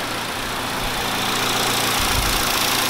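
A Sonata car engine idles continuously with a rough, uneven low rumble from a misfire that makes it shake visibly, steady and fairly loud, no voices.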